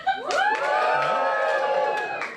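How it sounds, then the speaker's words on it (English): An audience at a comedy show, the Ding Dong Gong Show, bursts into cheering and whoops, a loud sustained swell of voices lasting a couple of seconds before easing off. "give me a cheer if you're not originally from London"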